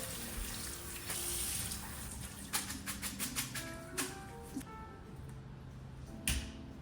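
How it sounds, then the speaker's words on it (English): Cold water runs steadily from a tap with splashing as noodles are rinsed, and a few sharp clicks and knocks come through near the middle, with no talking. "I feel like the texture will get better if you rinse them with cold water."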